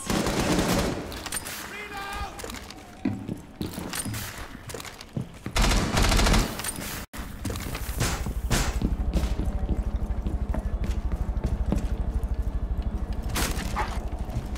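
Rapid bursts of Rainbow Six Siege gunfire crackle and rattle, with heavier automatic fire sustained through the second half and voices talking over it.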